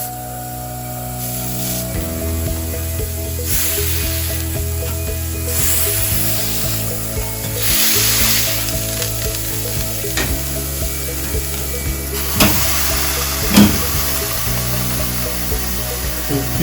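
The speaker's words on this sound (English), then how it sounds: "I'm going to place them equally onto the grill surface and see how they squash down." Two 85-gram beef meatballs pressed flat onto a hot grill surface for smash burgers, giving a steady close frying sizzle with stirring and scraping noises throughout and a few sharper clanks near the end.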